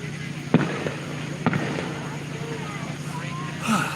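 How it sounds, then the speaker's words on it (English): Fireworks pop a few times in the distance on the 4th of July weekend at a go-kart short track in Hanceville, Alabama, two sharp reports standing out over a steady engine drone and murmuring voices. "the popping noise you're hearing is fireworks"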